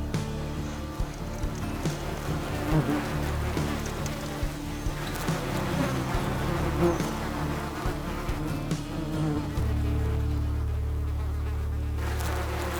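Dense, steady buzzing of a killer bee swarm being relocated from an underground hive fills the whole stretch, loud and continuous, with a deeper droning hum of a vacuum joining near the end.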